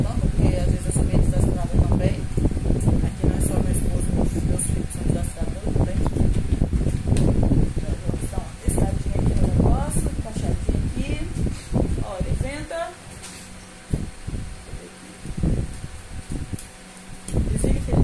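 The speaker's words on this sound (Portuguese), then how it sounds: "Tá no máximo, tá? Ó, só o ventilador." A portable air cooler runs in fan-only mode at its maximum setting with no water added, giving a continuous loud whoosh of moving air. A person talks over it through most of the stretch.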